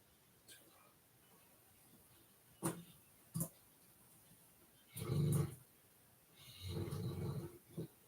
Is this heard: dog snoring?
yes